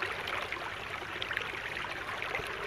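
Water in Cairn Creek flows with a steady, soft rushing hiss, continuous and fairly faint, with no voices.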